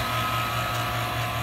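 A vacuum pump on an acrylic vacuum pressure chamber running, a steady close mechanical hum with a constant tonal drone and no change in pitch or level, with no talking.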